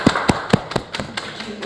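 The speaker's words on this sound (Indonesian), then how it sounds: "Ayo tepuk tangan buat kelompok 1." Classroom applause for a student group after a presentation, a short run of a few distinct sharp claps at an uneven rhythm, close and fairly loud, with faint voices underneath.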